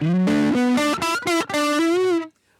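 Electric guitar played through a Hotone Binary amp with cabinet emulation switched off, giving a loud, raw, buzzy distorted tone as a short run of sustained notes and chords rings out and then cuts to silence.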